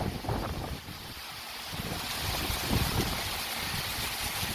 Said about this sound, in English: What a gust.